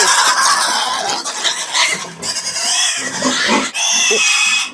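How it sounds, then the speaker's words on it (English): A piglet held under a person's arm squeals loudly and continuously at a farm May Day game, with shrill, rising and falling cries close by and barely a break. "whoever sings the longest before the pig squeals wins the pig"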